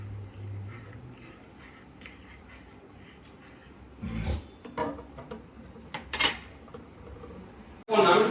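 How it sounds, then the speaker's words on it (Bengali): A spoon stirs black coffee in a cup at home, giving a few short bursts of close metallic clinking and scraping against the cup over a quiet room background. "কফিটা কুলছি এই চামচটা দিয়ে"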